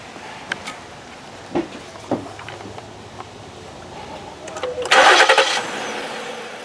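An engine being started during a filter restriction indicator installation: several faint knocks and clicks, then a loud cranking burst that catches and settles into a steady, close idle.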